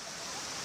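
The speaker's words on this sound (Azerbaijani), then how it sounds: "Divarın içindən çıxır su." Water gushing out of a stone wall beside a mountain waterfall, a steady broadband rushing hiss heard close and unbroken over a brief moment.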